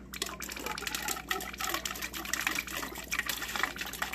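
Water streams steadily from a refrigerator's ice and water dispenser after a filter change, a continuous close splashing gush with a voice faintly underneath.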